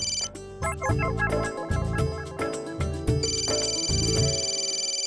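A phone ringtone plays loudly in a repeating melodic pattern of bright electronic tones, with no one talking over it.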